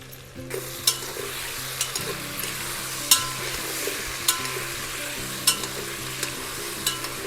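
Tomato pieces sauté in a pan for sambar, a soft steady sizzle punctuated by regular sharp scrapes and taps of a spoon against the pan, close up with no speech.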